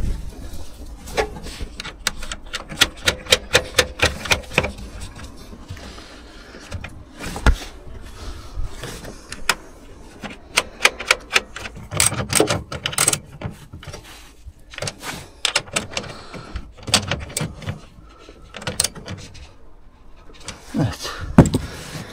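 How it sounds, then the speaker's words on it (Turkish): Screws are tightened while refitting a car's rear stop lamp after fixing a water leak: sharp, irregular clicks and rattles of a tool, close up, in uneven bursts with brief pauses. "Evet, vidalarını sıkalım."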